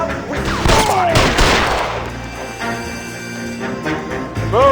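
Gunfire crackles in an L.A. Noire shootout, a dense burst of shots up close amid other game sounds, with a voice briefly audible.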